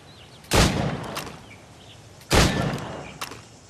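Two sharp, loud gunshots fired at targets in Assassin's Creed Rogue, spaced about two seconds apart, each with a short echoing tail over quiet outdoor ambience and faint distant birds.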